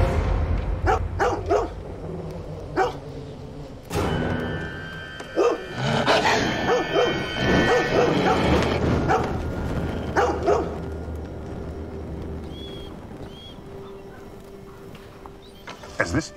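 Scavenging dogs barking over an ancient human settlement, several barks and yips rising through the mix with growls under a narrating voice and swelling music.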